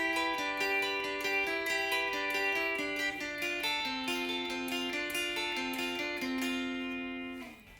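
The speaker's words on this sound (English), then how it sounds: "That's played on repeat and a bit more up to speed." A bright plucked guitar riff repeats at a steady, fairly quick pace, single notes stepping through a looping pattern, played alone and ringing out at the end.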